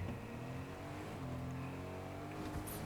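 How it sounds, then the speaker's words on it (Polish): Car engine in Fortnite, a steady droning hum with faint revving that holds at an even, moderate level throughout, with no speech over it. "Tu jest auto."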